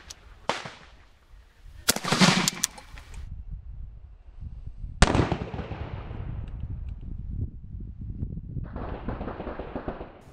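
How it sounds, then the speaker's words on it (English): Rifle fire from an 11.5-inch BSM carbine shooting 855 green tip ammunition outdoors: three loud, sharp cracks with a close double shot around two seconds, each followed by a ringing decay, then a rising hiss near the end. "I'm shooting 855 green tip out of an 11 and a half inch BSM."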